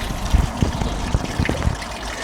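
Water splashes and trickles in a garden during watering, with irregular soft spatters and dribbles close to the microphone.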